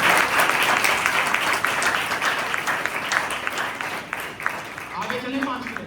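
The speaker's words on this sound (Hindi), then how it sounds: "जरा अपने लिए तालियां बजाएं" Congregation at a Christian mission outreach in Petaro, Jamshoro, Sindh claps loudly and steadily for several seconds, the applause thinning near the end as a voice starts to come through.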